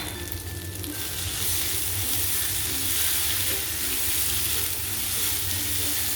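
Beef and masala dry-frying in a pan while being stirred, a steady dense sizzle with scraping stir sounds running close and loud throughout, no voices.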